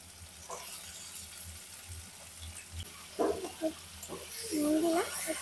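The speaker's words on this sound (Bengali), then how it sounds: "তারপর ওই কড়াতেই একটু তেল দিয়ে মাঝারি সাইজের টুকরো করা আলু দিলাম। বাবারে সেটাকে ভালোভাবে একটু ভেজে নেব।" Medium-sized potato pieces fry in a little oil in a wok, giving a steady, soft sizzling hiss throughout, with a few faint clinks and a voice speaking briefly near the end.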